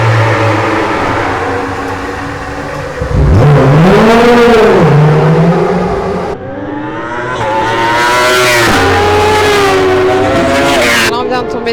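Racing motorcycles in a 24-hour endurance race in Belgium roar past near the pits, with loud rising and falling engine sweeps as bikes accelerate by, a lull between passes, and a second long pass.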